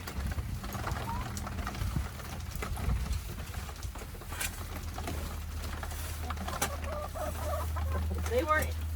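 Chickens clucking softly nearby under someone talking, with low rumbling background noise and a few brief sharper calls near the end.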